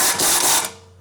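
Wrench loosening the 19 mm front strut bolts on a 2007–2011 Honda CR-V: a loud, close ratcheting burst for about half a second, then fading off.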